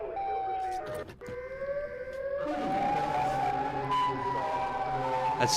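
A wailing siren rises and holds over a dense, noisy background, steady and prominent throughout with no talking.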